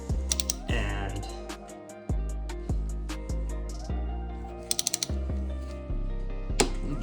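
Torque wrench clicking repeatedly while tightening the two front brake caliper bolts on a Honda CBR600RR motorcycle, set to 33 foot-pounds; sharp ratcheting clicks come in a steady rhythm of evenly spaced strokes, close and clear with no talk.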